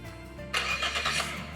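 A boat engine cranks and catches after the throttle shifter is set to neutral, a sudden broadband roar bursting in about a third of the way through and settling into a steady, fairly loud idle with no talking.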